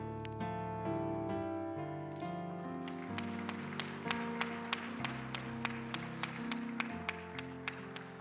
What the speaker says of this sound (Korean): 다시 한번 큰 박수로 축하해 주시기 바랍니다.